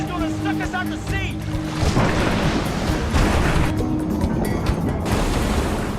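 Rough open-ocean waves and a strong current at sea, a broad rushing, churning wash that swells and surges continuously, with voices speaking over it early on.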